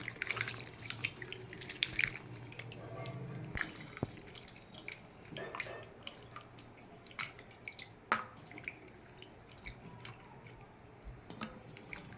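Dried fish is rinsed and rubbed with coarse rock salt and water in a bowl, giving quiet irregular splashes, drips and wet squishing sounds close by, with no voices.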